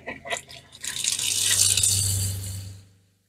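Rushing, gurgling water sputters through motorhome plumbing as the RV water pump draws from the tank, steady low pump hum underneath, building after a few brief bursts, then cutting off abruptly.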